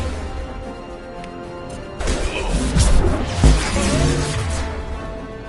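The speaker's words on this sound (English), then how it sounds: "Firing concussive shots." Concussive shots fired in the video game Mass Effect 2: a couple of heavy, booming impacts with a crashing whoosh, rising out of a low rumble and landing close and loud after a quieter start.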